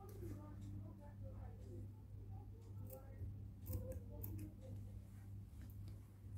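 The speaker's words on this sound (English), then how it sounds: "I will just make knots and cut the extra yarn" Scissors snipping off extra crochet yarn after knots are tied, a few quiet, sharp clicks heard close against a low background hum.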